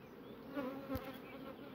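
Honeybees buzzing around an open hive colony during a spring inspection, a steady close insect hum with slight swells and no voices.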